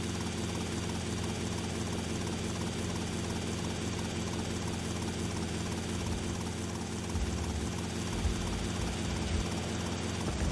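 Maverick helicopter flying in GTA Vice City, a steady whirring rotor and engine drone held at an even level throughout, with a slight low thump shift near the end and no talk.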